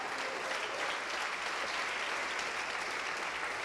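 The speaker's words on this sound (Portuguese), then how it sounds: "Vamos aplaudir mais, igreja" A church congregation applauds, a steady, dense wall of clapping that holds at an even level throughout without pause.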